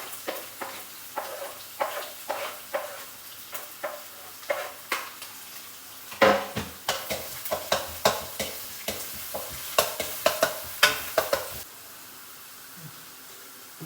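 Shallots, garlic and onion with coconut pieces stir-fried in a pan for a koonthal roast: a low sizzle under a steady rhythm of spatula scrapes and knocks, busier in the middle, then easing into quiet frying.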